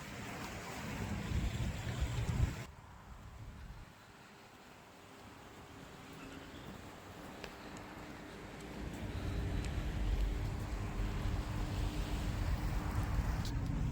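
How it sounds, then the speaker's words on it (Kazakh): Cold wind blowing outdoors at a caravanserai food centre in Turkistan, a steady broadband rush that is loud at first, drops after a few seconds to a softer whoosh, then strengthens again, with no voices. "Жел болып тұр, салқын дала."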